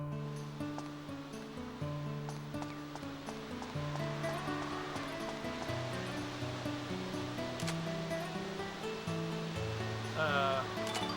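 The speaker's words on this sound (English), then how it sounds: "That counts as a waterfall." A waterfall in the video game Dark Cloud 2 rushes as a continuous, soft wash of water noise beneath a melodic game music track, fairly quiet and steady throughout.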